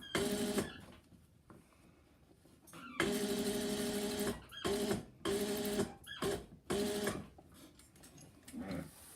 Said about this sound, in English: I'm stitching right there in the ditch